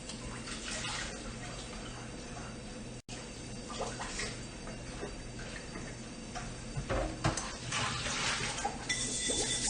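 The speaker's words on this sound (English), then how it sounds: "So I just need to wash out a pan really quick." Running water rinsing out a pan in a kitchen sink, a steady close splashing wash that carries on throughout with a brief break, and no talking.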